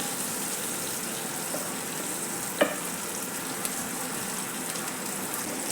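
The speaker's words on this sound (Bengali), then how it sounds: "কাঁকরোলগুলো দিয়ে আমি ভেজে নেব।" Slices of spiny gourd (kankrol) fry in a pan, giving a steady low sizzle throughout with one brief clink partway through; no one speaks.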